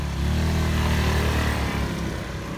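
Motorcycles pass close by with a loud, throaty engine drone that holds steady, then thins and fades slightly as they move away; no one speaks.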